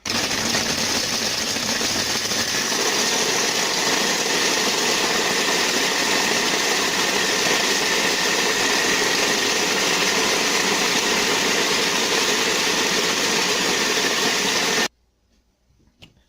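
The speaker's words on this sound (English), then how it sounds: "Put them into a little food processor. And whirl away." A small food processor whirs at full speed grinding cookies into crust crumbs, a loud, steady motor drone with a gritty rattle that runs unbroken for about fifteen seconds before cutting off abruptly to near silence.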